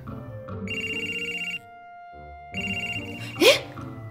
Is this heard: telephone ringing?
yes